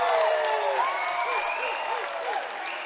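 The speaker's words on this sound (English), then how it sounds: "Bulldog fans cheer" Bulldog fans cheer and clap in a basketball arena. A broad crowd roar carries whoops and shouts and stays fairly steady for a few seconds.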